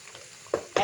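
Spices and chili fry in hot oil for an olive pickle, with two short bursts of sizzling and stirring standing out near the end over a quiet background.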